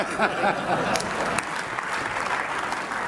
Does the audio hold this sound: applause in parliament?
yes